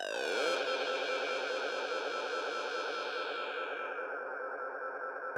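A riser effect in a psytrance track ripples with heavy, repeating delay echoes, a dense buzzing tone that thins out toward the end, sustained and alone.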